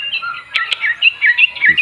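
A trucuk, a sooty-headed bulbul, sings from a hand-held perch close by, with rapid bright chirps and short warbling phrases repeated several times with no talk over them.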